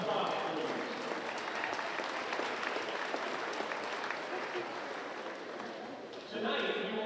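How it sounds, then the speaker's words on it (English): Spectators at a girls' wrestling quad applaud the referees, a steady round of clapping from a gym crowd that eases slightly before a voice begins over a PA at the end. "Round of applause, please."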